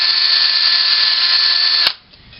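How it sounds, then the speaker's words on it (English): Power drill with a 1/8 inch bit boring a pilot hole through a closet shelf end clip, a steady high whine held for about two seconds before stopping abruptly, close and alone. "you drill a pilot hole through the bottom hole"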